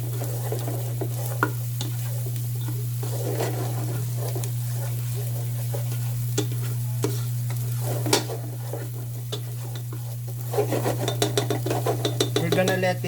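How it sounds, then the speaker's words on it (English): Hungarian sausage browns in a pan, a steady low sizzle under a constant hum, with scattered spoon clicks and scraping as it is stirred, growing busier toward the end. "We're gonna let it brown our Hungarian sausage because we need the rusty flavor of the sausage."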